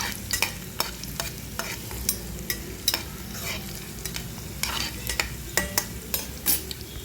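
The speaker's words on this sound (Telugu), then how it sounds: "దీనికోసం అల్లం వేయించుకోవాలి నీట్గా" Ginger pieces fry in hot oil in a pan for a green-chili ginger chutney, giving a steady close sizzle broken by regular scrapes and clinks of a stirring spoon, with no voices.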